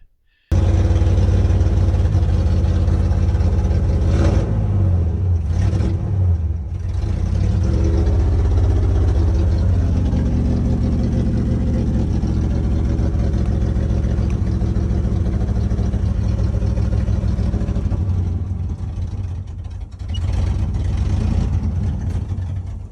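An International Scout's V8 engine, fed from an auxiliary tank, runs at a steady, deep idle, a loud continuous rumble with slight wavering in its note and no talking.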